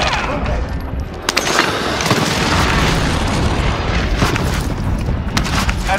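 Airstrike explosions in Call of Duty: Warzone on Fortune's Keep, loud continuous rumbling booms with sharp cracks layered over dense battle noise throughout.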